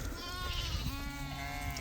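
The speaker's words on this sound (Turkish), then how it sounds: "Belə qoyunlardır balalı." A flock of pregnant ewes and their lambs bleats in a farm pen, with several overlapping wavering cries heard close by over a continuous background din.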